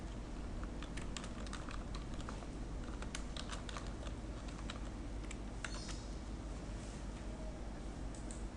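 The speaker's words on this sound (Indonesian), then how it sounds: "Kemudian ketikkan isi teksnya." Text typed on a computer keyboard, a quiet, steady run of light key clicks at close range over a constant background hiss, with no talk.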